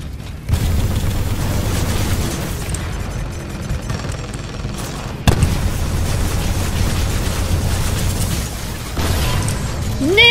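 A nuke detonates in a video game: a loud, dense roar of rumbling blasts and crackling bursts, with a fresh heavy impact partway through that sustains the thunderous din to the end, with no voices.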